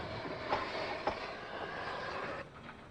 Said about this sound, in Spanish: Los raíles soldados permiten a los trenes actuales deslizarse con seguridad y sin trepidaciones